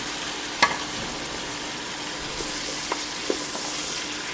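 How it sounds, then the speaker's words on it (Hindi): Mutton nalli pieces frying with onions in a pot for nalli pulao, a soft steady sizzle with a few sharp clinks of a stirring spoon, close and fairly quiet, no voices. "थोड़ा सा प्याज के साथ ही में फ्राई कर लें"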